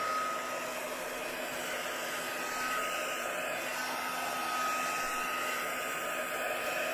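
Steady whooshing blow of a hair dryer drying watercolor paint on paper, an even close airflow hum with no pauses.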